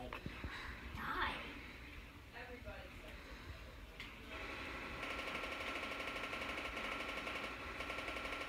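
Rapid machine gun fire in the Roblox game Zombie Rush starts a few seconds in as a dense, steady stream of shots and continues to the end, with a young player talking over the start.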